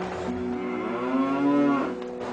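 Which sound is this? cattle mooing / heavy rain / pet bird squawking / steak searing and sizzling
cattle mooing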